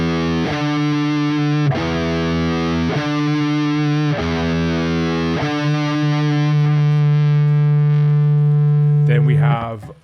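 Heavily distorted metal electric guitar sounding a minor seventh interval, struck four times in steady sustained chords, then one long ringing hold before a brief squeal at the end, loud and alone.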